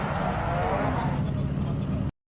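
A Nissan Crew drift car, modified from a plain Japanese taxi, runs in the HPI racing game on the YZ Circuit, a loud, steady engine roar that holds for two seconds, then cuts off abruptly.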